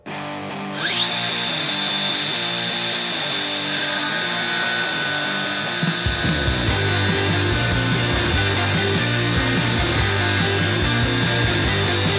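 A DeWalt DCG405N cordless angle grinder whines loudly as it spins up and cuts, a sustained high-pitched grinding that deepens and roughens partway through.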